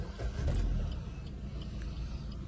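A quiet petrol car engine idling with the hood up, a steady low rumble close by and alone, with a slightly louder swell near the start.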